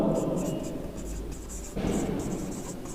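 Pen or pencil scratches across paper in short strokes while writing English words by hand, close and soft, with a quiet voice speaking alongside.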